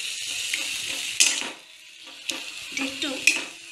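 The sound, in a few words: stirring pineapple in ghee in a pan for halwa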